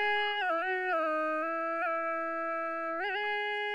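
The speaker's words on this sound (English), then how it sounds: "It's literally just me humming." Soft hummed vocal recorded dry with autotune, no other effects, holding steady pitched notes with a few stepped pitch changes, quiet and close with no accompaniment.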